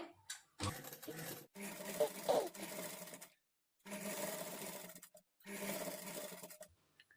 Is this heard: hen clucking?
no